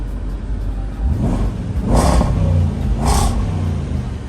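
A Range Rover Sport SVR engine revs with the exhaust button on, a low rumbling idle broken by two sharp, loud blips about a second apart, each one crackling before it settles back.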